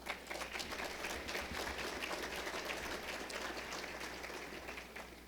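Faint, steady applause from a seated audience at a civic roundtable lecture, a dense, even patter of many hands continuing throughout without a break.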